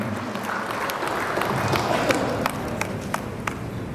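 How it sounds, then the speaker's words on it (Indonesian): A ceremony audience in Palembang claps in a dense, steady patter while garlands are presented to village heads' representatives at a 3 Pilar event, with a few sharper claps standing out and faint voices underneath. "Boleh kita juga iringi dengan tepuk tangan Bapak Ibu semua"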